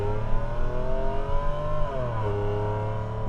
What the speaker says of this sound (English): Good to see if I can get it up to full throttle as well as full rev.